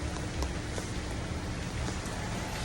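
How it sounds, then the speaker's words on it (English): Rain falling on a New York City street, a close, steady hiss of drops with scattered patters, moderately quiet and unbroken. "The rain is killing my vibe here."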